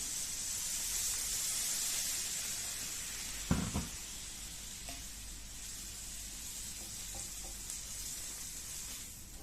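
Mustard seeds pop in hot oil for a potato masala, under a steady soft sizzle with a few scattered crackles and one sharper thud partway through.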